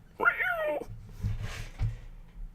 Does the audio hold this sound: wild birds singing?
no